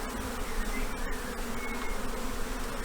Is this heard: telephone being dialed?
no